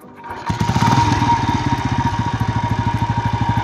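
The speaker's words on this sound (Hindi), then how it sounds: "एक बार आपको इसके इंजन की आवाज़ सुना दे भाई" A 2024 Royal Enfield Bullet Electra motorcycle engine starts and settles into a steady, throbbing idle with rapid regular pulses, close by and loud.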